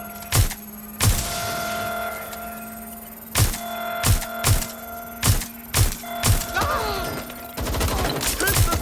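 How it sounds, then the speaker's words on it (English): Gunfire in the Watch Dogs: Legion video game: a string of sharp, loud shots fired in bursts and single cracks, some clustered rapidly, over a steady humming game backdrop with occasional mechanical sounds. "Taking fire!"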